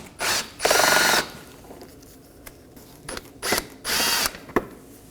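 A power tool backs out Phillips head screws on the front inner fender liner of a Nissan Maxima, giving several short, loud whirring bursts separated by clicks and small ratcheting sounds, close up and without talk.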